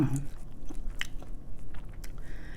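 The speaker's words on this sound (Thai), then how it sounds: "เสียงเธอเคี้ยวแบบกรอบกรอบกรุบกรุบ" Close, crisp crunching bites and chewing, a few sharp cracks over a steady background murmur.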